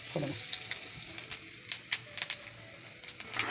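Nigella seeds sizzling in hot oil, a close steady frying hiss with quick crackling pops spread across it.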